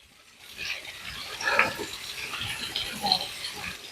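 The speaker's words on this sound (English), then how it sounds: "that comes out of the smaller pump, which then just drops down into the stepping stone pond" Pump-fed water drops down a small falls into a backyard stepping stone koi pond, giving a steady, close splashing and trickling wash that rises slightly midway and continues unbroken.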